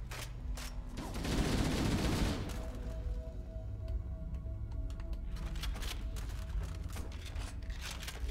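Gunfire in Halo: Master Chief Collection: sharp individual shots, then a dense burst of rapid automatic fire, followed by scattered further shots and sci-fi weapon tones over a busy combat background.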